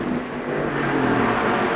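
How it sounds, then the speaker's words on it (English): A 1962 NASCAR stock car at the Southern 500 at Darlington eases off the throttle, its engine a steady, fairly loud droning hum with a faint tonal whine, heard alone on an old race recording. "Junior Johnson also eases off the throttle"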